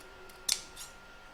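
Scissors make one sharp snip and then a softer follow-up cut through embroidered fabric with stabiliser, heard close up in a quiet room.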